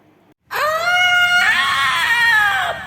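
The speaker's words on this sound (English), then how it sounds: "Gretel ignored the screams of the witch." A witch screams from inside a hot furnace, one loud, sustained, wavering shriek that bursts in after a brief silence and holds for over two seconds before trailing off, heard alone.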